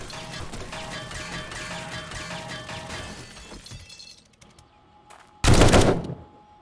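Automated turrets in the zombie survival game 7 Days To Die fire a steady rattling stream of gunfire that tapers off, followed by a loud, sudden crash near the end.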